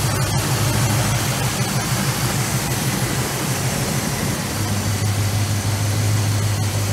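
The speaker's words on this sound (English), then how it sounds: "Hopefully you can hear me over the top of the engine" Dodge Charger engine idling on its first start of the year after warming up, a steady low rumble with a constant hum, close and continuous with no voices.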